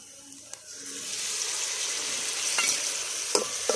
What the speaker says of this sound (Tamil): இஞ்சி பூண்டு பேஸ்ட் பச்சை வாசனை போகிற அளவுக்கு நல்லா வதக்கி விட்டுக்கலாம்